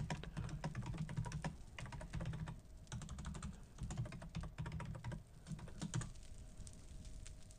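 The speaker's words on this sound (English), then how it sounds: "that's me typing in" Rapid typing on a computer keyboard chatters on in dense, continuous runs with brief pauses, close-up and fairly loud, with no voice over it.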